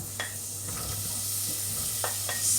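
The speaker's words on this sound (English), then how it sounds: "So it's just one chopped onion, and you fry that off gently" One chopped onion fries gently in olive oil in a pan, giving a soft steady sizzle close by, punctuated by a few light utensil taps and scrapes.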